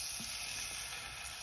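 An egg frying in a pan for a simple breakfast egg and avocado sandwich, a faint, steady sizzle and hiss with a small soft clink near the start.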